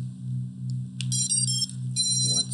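A drone's BLHeli32 electronic speed controllers play a short run of beeping startup tones after the battery is plugged in, over a steady low motor-like hum. A faint rustle follows near the end.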